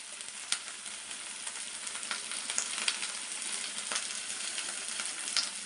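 Chilli powder, turmeric and salt frying in a pan for okra gojju, a faint even sizzle with light, irregular clicks of stirring, no voices.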